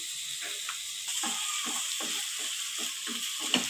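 Green chili paste with a little mint frying in a pan for a home-cooked mango chicken curry, a steady bright sizzle with soft rhythmic stirring scrapes throughout, close and moderately quiet.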